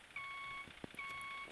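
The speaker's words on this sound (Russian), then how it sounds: "Включается пикалка вот эта." A truck's reversing warning beeper sounds in The Road Driver video game. Two clear electronic beeps come with a short gap between them, faint against a quiet background hum.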